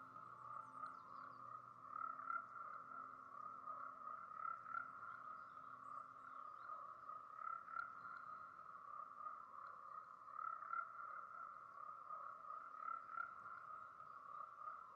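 Glass frogs call steadily in a tropical rainforest, a dense chorus of repeated pulsing notes holding one band for the whole stretch, moderately faint against soft forest background with no voices.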